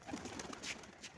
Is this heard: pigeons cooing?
yes